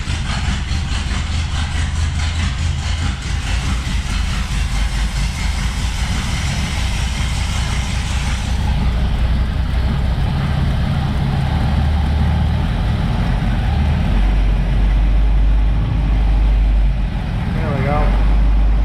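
A 1965 Mustang's Ford 289 V8 idles low and rough just after a distributor swap, a steady close engine rumble with a change in tone partway through and talk over it.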